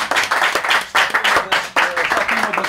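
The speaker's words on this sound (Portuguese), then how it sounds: "Palmas para vocês" Lively close clapping from guests at a 61st birthday party, rhythmic bursts of hand claps mixed with voices talking and cheering underneath.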